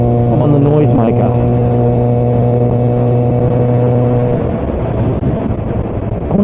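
A fully modified Kawasaki ZX4R motorcycle engine drones loudly and steadily from a helmet-mounted position, then shifts in pitch partway through, with constant wind rush over it.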